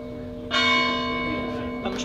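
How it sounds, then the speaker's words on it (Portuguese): A church bell rings loud and near, one strong strike with a long ringing decay and a second strike starting at the end, over a quiet outdoor gathering with murmured voices. "Não, vamos esperar que o sino toque."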